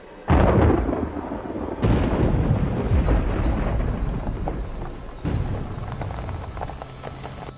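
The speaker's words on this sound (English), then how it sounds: "It's a mean storm and it's headed straight for Gotham" A fierce thunderstorm rolls over a city, with heavy rumbling thunder crashing in several loud surges about two seconds apart and a steady roar of wind and rain filling the gaps between the booms.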